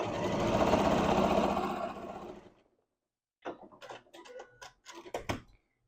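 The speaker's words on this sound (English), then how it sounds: "I have a little scrap here that I'm going to do the zigzag on" Sewing machine zigzag stitching on a scrap of sweater knit, a close, loud whirring run for about two seconds that fades out, then after a pause several short bursts of stitching.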